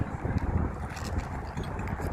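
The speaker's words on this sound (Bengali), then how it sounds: "শীত বাতাস প্রচুর।" Cold wind blowing outdoors at a football ground in Khobar, Saudi Arabia, buffeting the microphone with a steady low rumble throughout.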